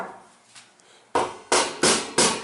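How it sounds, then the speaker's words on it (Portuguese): A hammer drives wire mesh onto a guinea pig enclosure, landing four sharp, evenly spaced strikes up close after a few faint handling sounds. "utilize o martelo"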